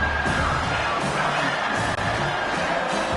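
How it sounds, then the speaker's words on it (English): A football stadium crowd at an Alabama game roars in a steady, dense wash of cheering and shouting, loud and continuous throughout with no clear breaks. "This crowd bringing the energy and noise early."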